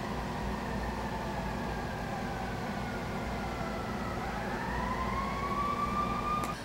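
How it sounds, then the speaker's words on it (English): Emergency vehicle sirens wail steadily from outside, their rising and falling tone sliding upward and growing slightly louder near the end over a constant background hum. "excuse the sirens"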